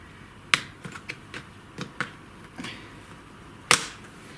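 A laptop hard drive clipping into place: a series of sharp plastic clicks and snaps, scattered irregularly, with one louder snap near the end, close and otherwise quiet.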